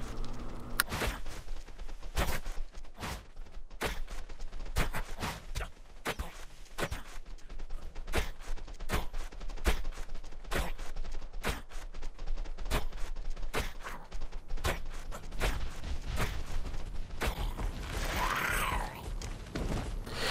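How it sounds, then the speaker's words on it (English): Repeated tranquilizer ammo shots ring out in Ark: Survival Evolved during a Thorny Dragon taming, with sharp regular reports every second or so over constant game noise and rumbling, and a creature-like groan near the end. "Just outrun while hitting it with your trank ammo."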